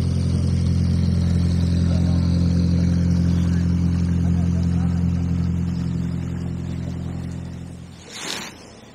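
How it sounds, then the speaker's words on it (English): Canal boats moving along a canal at dawn with their engines running, a steady low diesel rumble that holds loud and close for most of the time before fading away, ending with a brief splash-like noise. "I can hear boats moving."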